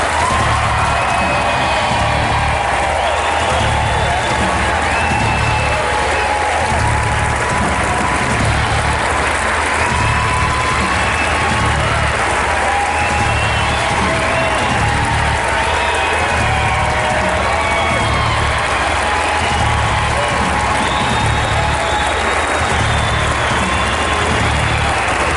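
A Republican presidential debate audience applauds and cheers the candidates, sustained loud clapping and crowd noise filling the hall without pause for the whole stretch.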